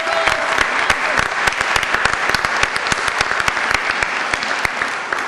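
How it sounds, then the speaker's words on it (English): An audience at a Maryland Black Caucus luncheon applauds, with loud, close, distinct individual claps forming a continuous crackling round throughout. "Can we give her another round of applause?"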